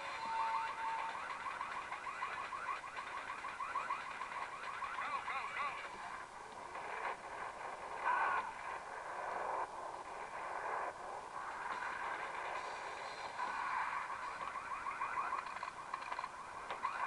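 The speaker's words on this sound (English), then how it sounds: "Się włączył alarm." An alarm in the Max Payne video game rings continuously, a steady, moderately loud electronic tone held throughout without pause, with no voices over it.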